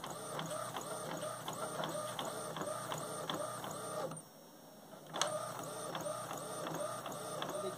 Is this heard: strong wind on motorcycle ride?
no